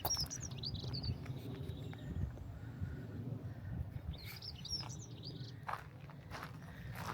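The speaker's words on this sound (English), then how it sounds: "You hear the birds as well." Birds sing and chirp in short bursts in the National Trust gardens at Hinton Ampner, fairly faint and distant, over footsteps on a path and low outdoor rumble.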